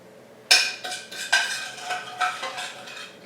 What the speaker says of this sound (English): You just use the back of the spoon and squish it on the bottom of the pan, it squashes the little